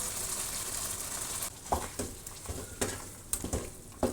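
Cream poured into a pan of cheesy chicken karahi, stirring and sizzling over a steady frying hiss, with several sharp scrapes and clinks of a spoon against the pan in the second half.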